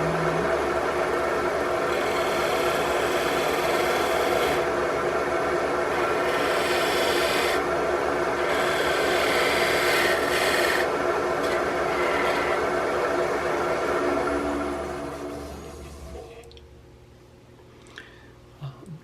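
A wooden wine glass stem being trimmed on a lathe gives a steady close rasping, rubbing hiss for about fifteen seconds, then fades to near silence with a few small clicks.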